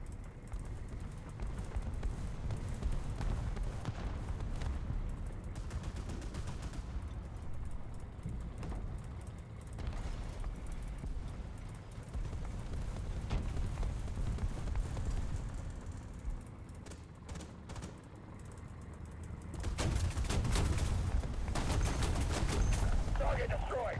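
Artillery strike in War Thunder with dense, continuous rumbling bursts of gunfire and explosions, a heavier barrage swelling near the end, with a voice heard beneath the din.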